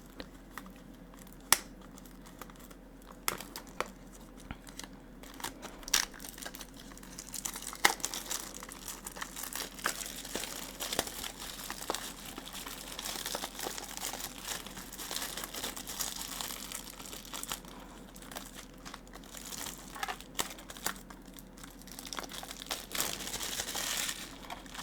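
Plastic wrap on a Yu-Gi-Oh! Maze of Millennia card box crinkles and crackles in close, soft bursts, with occasional sharper snaps and quiet handling between them.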